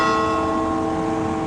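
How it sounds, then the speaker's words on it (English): Church bell ringing in a Portuguese neighborhood in the afternoon, a steady sustained toll with rich lingering overtones that fill the whole moment, loud and fairly close, with no talk over it. "There goes the bell again."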